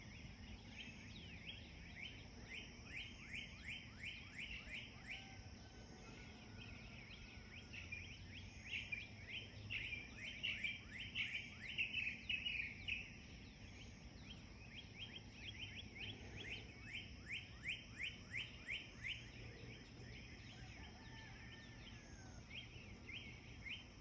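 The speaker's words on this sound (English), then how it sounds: "Why do they chirp and sing in the morning?" Birds chirp and sing in the minutes before sunrise, rapid repeated high trills and tweets at moderate distance, running steadily throughout with insect-like buzzing beneath and no talk.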